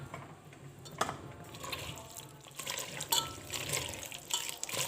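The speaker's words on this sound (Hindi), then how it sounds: "जो पानी उबाला है उसमें थोड़ा थोड़ा पानी ऐसे मिला के मैं डालती जाऊंगी" Boiled water poured a little at a time into a mashed herbal pulp, heard as splashy, gurgling liquid with drips and a couple of sharper splashes, close by and fairly quiet.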